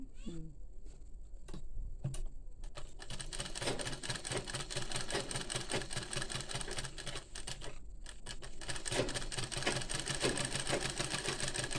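A sewing machine stitches a kubasa blouse, running in long steady bursts with short pauses between them, close and clear for most of the stretch.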